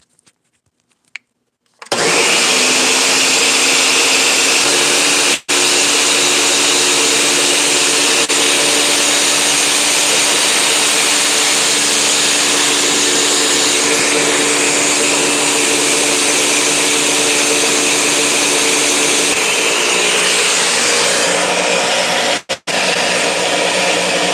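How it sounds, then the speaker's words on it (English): A blender runs for about twenty seconds, a loud, steady whirring roar that starts abruptly, dips once and cuts off near the end, with no talking. "so your ears don't pop from the noise of the blender"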